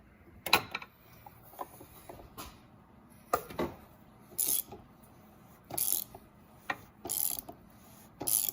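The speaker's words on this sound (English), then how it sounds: "And then this way we can loosen up that oil filter and get it out." A ratchet loosening the oil filter cap on a Volvo T6 during an oil change, heard as short bursts of clicking separated by quiet pauses, close and fairly clear.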